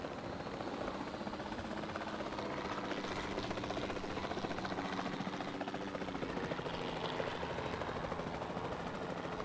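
A helicopter in Jurassic World Evolution 2 gives off a continuous rotor drone, steady and unbroken, at moderate volume with no voices over it.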